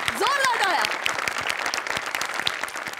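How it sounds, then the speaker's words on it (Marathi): A comedy show audience breaking into loud, dense applause that carries on steadily, with a voice calling out briefly at the start. "जोरदार टाळ्या"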